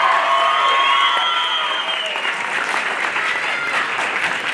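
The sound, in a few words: audience clapping and cheering for a performer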